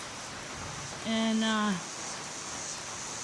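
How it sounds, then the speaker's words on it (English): Rain falls steadily on a trail shelter as an even, hissing wash throughout, with a voice briefly speaking over it. "it's raining."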